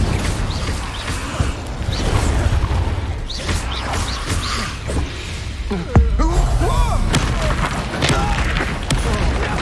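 Hogwarts Legacy combat with an Incendio fire spell, heavy booming bursts and crackling impacts repeating over about ten seconds, loud and close, with a voice speaking now and then among the blasts.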